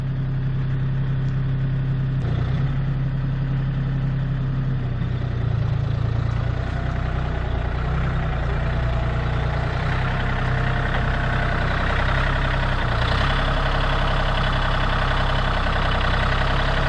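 A tractor engine idles close by, a steady low continuous rumble with a slight shift in pitch partway through, with no voices.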